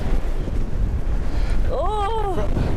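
Steady, rushing wind buffets the microphone throughout on a very windy Christmas-season day in Beverley, with a voice briefly exclaiming over the roar near the end.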